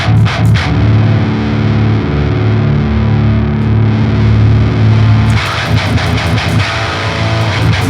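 Heavily distorted metal electric guitar through a Wavemind Hexen amp plugin, thick sustained chugging chords ringing out loud for several seconds before a burst of tight palm-muted staccato hits.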